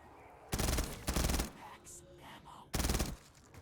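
Three loud, close gunshot bursts from a weapon in Black Ops 3 Custom Zombies, two in quick succession and a third after a short pause, each with a brief rattling tail.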